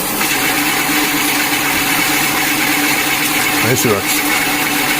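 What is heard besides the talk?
electric bike motor running at no-load top speed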